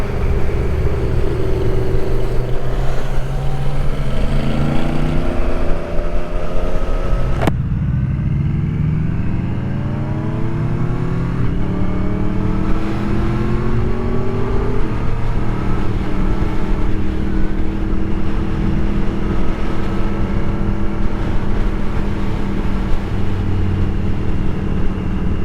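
A Triumph Street Triple 765 RS motorcycle being ridden, with loud engine roar and wind rush, repeated rising revs through upshifts and a sharp throttle change partway through.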